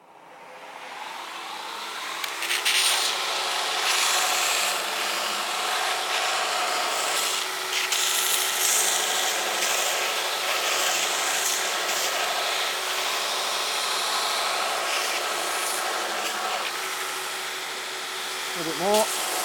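A Shop Master 72-inch belt grinder with Blaze belts grinding a knife blade, giving a continuous loud abrasive rasp that holds steady for nearly twenty seconds, near and constant, with a brief change at the very end.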